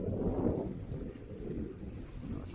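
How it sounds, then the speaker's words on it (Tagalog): Strong wind buffets and roars across the microphone in heavy low gusts, with a muffled rumble underneath and no voices. "medyo malaksang hangin papunta rito"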